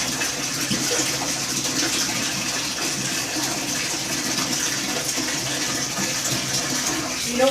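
Water pours steadily into a bathtub while a dog is bathed, a continuous broad rushing gush from start to finish.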